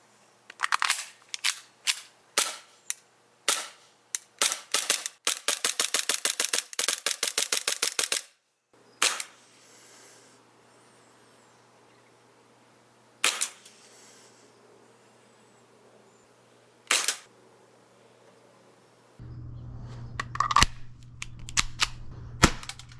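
Green gas airsoft pistol firing BBs, a string of sharp snapping pops in rapid bursts followed by a few isolated single shots, close and loud, with a low hum near the end.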